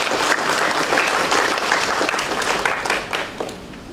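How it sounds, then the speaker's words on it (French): An audience at a youth public-speaking club event breaks into loud, close applause. It holds steady, then starts to thin out near the end, with no voices over it. "à notre très cher parent, M. Samuel Faye, sous vos applaudissements."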